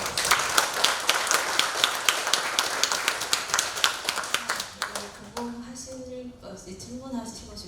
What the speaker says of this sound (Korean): 우리 강사님께 다시 한번 박수 부탁드립니다